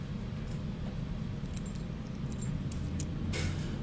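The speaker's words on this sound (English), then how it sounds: "So you'll get obviously two keys, two original Compx keys." Two original Compx cabinet lock keys with a 346 keyway give a few faint, brief metallic jingles over a steady low room hum.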